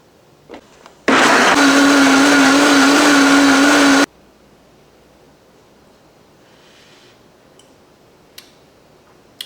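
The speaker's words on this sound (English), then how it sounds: "before adding it into a blender and blending it until smooth" A blender loudly purées a crab and lobster bisque thickened with softened rice, whirring steadily for about three seconds before stopping abruptly, followed by quiet room tone and a few faint clicks.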